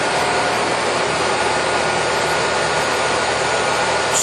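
An American Pacemaker 27x240 lathe running at 1,000 RPM, a dense, even broadband whir and hum heard up close, steady and unbroken with no voices.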